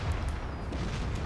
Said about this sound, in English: Now you can see an explosion.